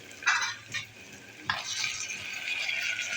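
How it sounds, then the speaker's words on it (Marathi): Chopped tomato sautéed in a pan with onion for a dry sprouted moong dish, giving soft sizzling and stirring scrapes in short bursts, then a steadier sizzle, close by with no talk. "हा एक टॉमॅटो टाकलेला आहे बारीक करून आता चांगलं परतून घेऊया"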